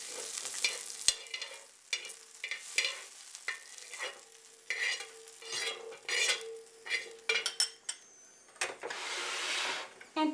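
Blistered roasted green chillies are stirred and scraped out of a hot pan, sharp metallic clinks and scrapes coming in irregular bursts over a faint sizzle, close and alone.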